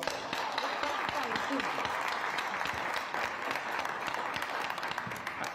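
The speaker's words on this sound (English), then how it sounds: "Let's give him a round of applause." A village trustee meeting audience gives its fire chief a round of applause, with close, sustained clapping of moderate loudness that runs evenly throughout and has no speech over it.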